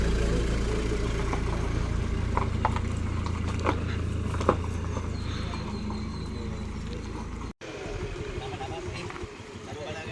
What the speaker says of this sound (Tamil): இலங்கை நில அளவை திணைக்களம் தான் 2வது வாகனம் உள்ளே போய் கொண்டிருக்குது